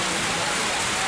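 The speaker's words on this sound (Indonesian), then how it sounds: "cuacanya seperti dugaan, hujan" Steady rain falling in the mountain area of Baturaden, Banyumas, a constant dense hiss of drops on surfaces, close and even throughout.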